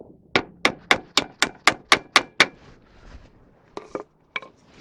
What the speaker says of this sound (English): Right, we're back with the hammer.